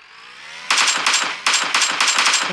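Close, loud bursts of automatic machine gun fire come from the video game PUBG, in rapid rattling volleys with short pauses between them. No one talks over the shooting.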